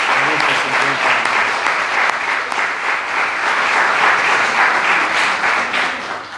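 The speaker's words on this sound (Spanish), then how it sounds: "Dar un aplauso al Señor" Church congregation breaking into loud, enthusiastic applause, a thick continuous clatter of many hands that stays strong for several seconds with faint voices mixed in.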